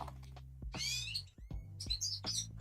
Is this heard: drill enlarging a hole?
no